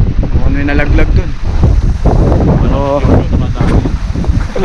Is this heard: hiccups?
no